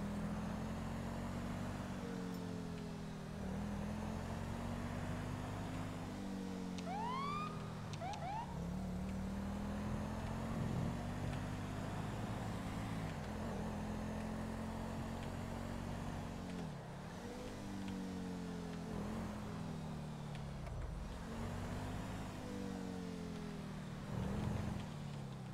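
An unmarked police car drives along in the GTA LSPDFR video game, its engine humming steadily and rising and falling as it accelerates and shifts, with faint background noises over the whole stretch.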